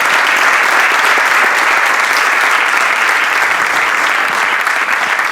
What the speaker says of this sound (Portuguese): uma grande salva de palmas aqui para o nosso Pedro